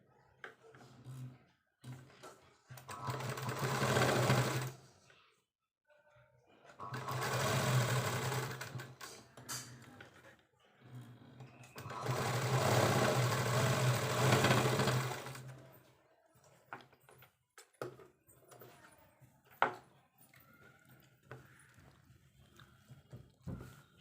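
A sewing machine stitches a baby frock in three runs of several seconds each, a close, fast whirring hum separated by pauses with small handling clicks and rustles.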